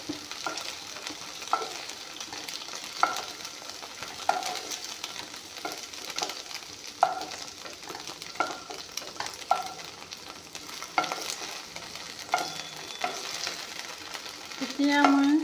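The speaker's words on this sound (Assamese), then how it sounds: "এয়া চাওক, ভেন্দিখিনি ভজা" Okra fries in a pan while being stirred, a continuous close sizzle broken by regular scraping strokes every second or so, with occasional bird coos in the background.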